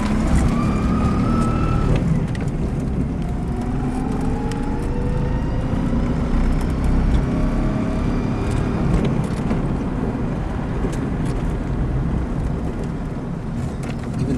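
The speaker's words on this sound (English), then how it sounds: "First gear, we'll go through the school parking lot and turn around." A converted electric car rolling in first gear through a school parking lot, a steady cabin rumble of tires and road with faint whining motor tones rising and falling, continuous and close throughout.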